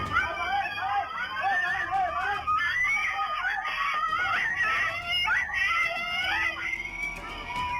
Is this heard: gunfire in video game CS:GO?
no